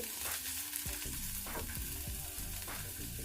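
Chopped coriander stems fry in a pan for a soup base, giving a steady close sizzle with scraping stirs and clinks running through, and no one talking.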